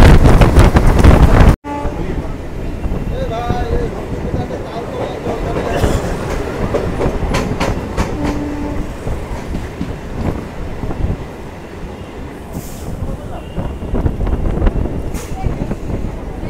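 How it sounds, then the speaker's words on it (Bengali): A crowded local train on the Bangaon–Ranaghat line, Eastern Railway, rumbles and rattles as it runs into Gangnapur station, with wheel clatter, wind buffeting and passengers talking in the background. "আর আমাদের ট্রেন এখন ঢুকছে হচ্ছে গাংনাপুর স্টেশন।"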